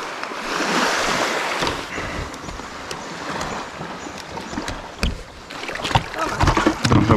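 Kayak paddling on the sea around El Nido, with rhythmic paddle strokes and water splashes close by, soft waves and some wind in the background.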